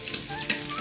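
Chopped onions sizzle in hot oil in a kadai-style wok, a short burst of dense crackling and hiss with a sharper pop midway, close and steady, with no voices.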